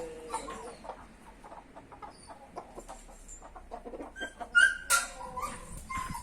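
Clucking and chatter from a flock of Aseel fowl, a rooster and his hens, around a coop, with a louder burst near the end and a dog also in the mix.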